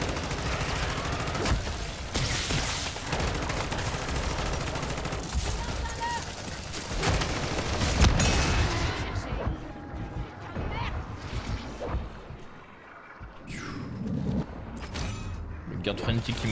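Dense turret gunfire in a shooter game, sustained bursts of rapid shots that roll on loudly through most of the stretch, easing and thinning toward the end with scattered impacts.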